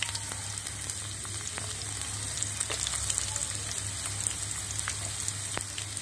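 Chopped onion fries in oil with cinnamon, cardamom, bay leaf, ginger and garlic, giving an even, close, continuous sizzle with faint pops over a low steady hum.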